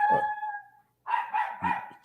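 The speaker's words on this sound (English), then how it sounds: "Keeping my mother-in-law's dog." A dog barks indoors, close and fairly loud, with one short bark followed after a pause by a quick run of three or four barks.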